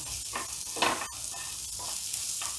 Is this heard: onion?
yes